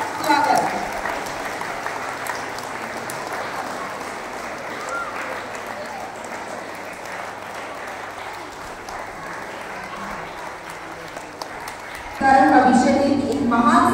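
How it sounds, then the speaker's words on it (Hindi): Audience applause welcoming guests at a school summer camp opening in Nawalgarh, a long steady roll of crowd clapping that swells louder near the end. "एक बार जोरदार तालियों के साथ स्वागत।"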